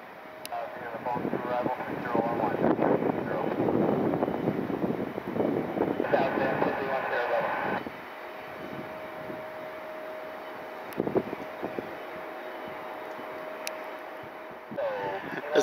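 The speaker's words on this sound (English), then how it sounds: "Got a KC-135 on the runway." A KC-135 military tanker aircraft taxis at Detroit Metro Airport, its steady jet engine whine and rumble carrying at a moderate distance amid wind noise, with a sustained tonal hum through the later part.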